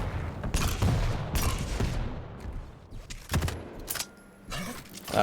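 Rockets fired in Quake during a competitive match, heard as a string of sharp launches and explosions in quick, uneven bursts, loud and close.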